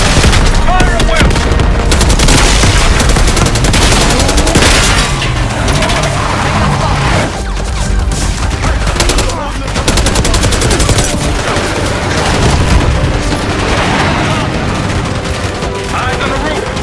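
Dense, continuous gunfire from Call of Duty Black Ops 6 fills the whole stretch: rapid automatic bursts and sharp cracks layered with booms, loud and close, with shouted voices mixed in underneath.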